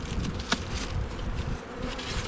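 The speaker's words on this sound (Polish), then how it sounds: "Jeszcze muszę wstrząknąć tą pozostałą pszczołę, która jest." A dense, loud swarm of honey bees buzzes continuously and close as they are shaken into a new Wielkopolska-style hive, with a brief knock in the middle.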